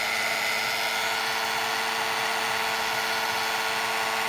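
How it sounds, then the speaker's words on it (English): A heat gun blows steadily and alone at close range, warming embossing powder on a handmade stamped card until it melts, its fan roar and motor whine even and unbroken throughout. "I've got my heat gun now, and we're going to go ahead and heat this little guy up, melting that embossing powder"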